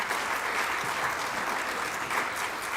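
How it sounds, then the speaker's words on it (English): Steady, dense applause from a large audience at a community report event in San Miguel de Allende, continuous and even throughout with no talk over it. "everybody needs a big applause for that achievement"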